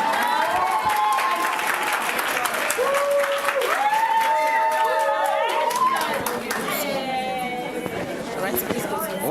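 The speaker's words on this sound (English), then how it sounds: "A round of applause for him, please" A seminar audience applauds with dense, sustained clapping and crowd chatter mixed with voices and whoops throughout, easing slightly near the end.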